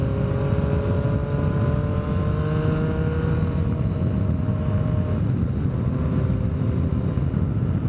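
A motorcycle accelerates on a ride, its engine note climbing steadily under heavy, constant wind rush, loud and close throughout.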